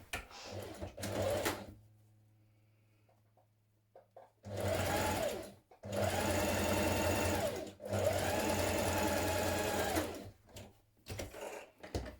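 A sewing machine stitches the front seam of a top, running in close, steady mechanical bursts of a few seconds each, separated by short pauses and a brief lighter whirr at the start.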